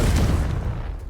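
Confringo blasting spell cast in Hogwarts Legacy, a loud, booming explosive burst with a rumbling low-end tail that fades over about a second.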